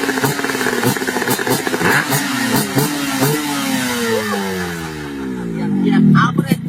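Motorcycle engine revving close by with its exhaust, rising and falling in pitch through several throttle blips and ending in a louder, higher rev, with people talking around it.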